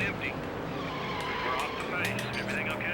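In the Nascar Thunder 2003 video game, a race car's brakes lock up and its tires skid with a continuous squeal over the engine drone, rising and wavering across a few seconds.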